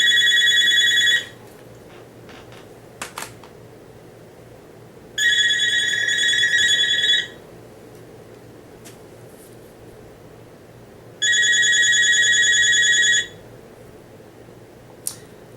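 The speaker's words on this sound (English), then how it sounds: "Yeah, that was my phone." Mobile phone ringing indoors, with three separate bursts of bright electronic ringtone, each lasting about two seconds, spaced several seconds apart over a quiet room background.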